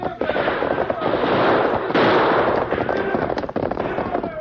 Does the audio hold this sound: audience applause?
no